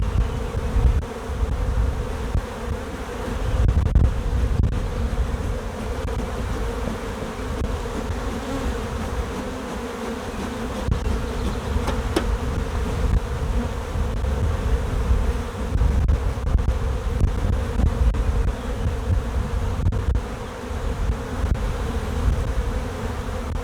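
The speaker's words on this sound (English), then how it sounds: "there are a lot of bees in here" Honeybees buzz densely inside an opened hive, a steady close hum with occasional louder passes, no voices present.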